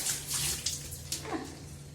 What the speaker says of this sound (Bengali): এই যে মটরশুঁটি পর্যন্ত ধুয়ে দিই